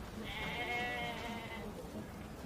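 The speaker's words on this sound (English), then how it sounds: "That sheep is blind." A single sheep offered for sale at a market in ancient Jerusalem lets out a wavering bleat lasting over a second, moderately faint against a low background murmur.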